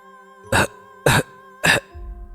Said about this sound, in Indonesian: suara batuk itu terdengar keras dan jelas sebanyak 3 kali